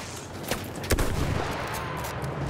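Battlefield 1 gunfire: a few sharp shots crack out over a steady rumble of battle noise, moderately loud with no talking.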